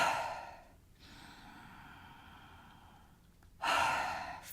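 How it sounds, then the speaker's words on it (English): A deep, slow exhalation from a warrior breath exercise, followed by a quieter breathy stretch and then another strong, forceful exhale, close and clear with no talking. "Full deep breaths."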